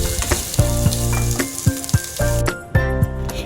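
Katla fish bhuna sizzles in a pan while being stirred, steady close frying crackle broken by sharp scraping clacks of the spatula in an uneven rhythm.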